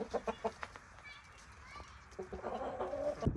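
Hens in a chicken coop on a winter farm give a few short clucks early on, then a busier murmur of clucking builds toward the end under low ambient noise.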